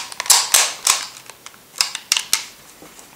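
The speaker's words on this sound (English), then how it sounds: "you need to crank until you hear that click, and then the camera is ready to shoot." An Instamatic camera's film advance crank being wound, giving a series of sharp, close mechanical clicks and ratcheting snaps at irregular intervals, loud and dry against a quiet background.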